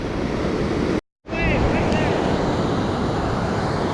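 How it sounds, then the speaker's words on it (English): Ocean surf along a fishing shore, steady broadband roar of waves breaking one after another with wind noise on the microphone, loud and close throughout apart from a brief dropout near the start. "Man, look at all these crashing waves one after another."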